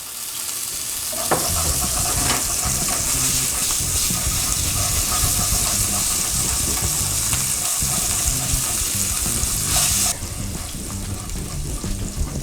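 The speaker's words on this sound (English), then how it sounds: "now we're gonna be adding in our chorizo. I just wanna render this down a little bit" Chorizo frying in oil in a pan as the start of refried beans, a dense, steady sizzle lasting throughout with occasional stirring scrapes and crackles, close and loud.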